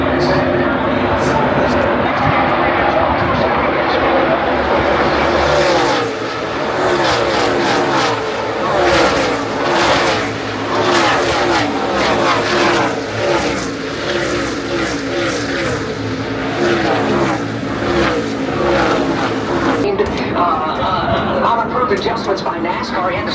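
NASCAR stock cars race around Dover Motor Speedway, loud engines roaring past in repeated waves as the pack laps, with crowd and voices mixed in over a sustained rumbling din.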